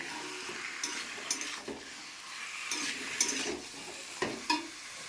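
Chicken frying in a pan with onion, a soft steady sizzle with repeated scraping and stirring strokes of a utensil against the pan, fairly quiet and close.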